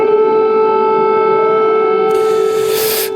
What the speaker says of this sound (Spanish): Me acuerdo de la sirena en Kiev por la noche en el hotel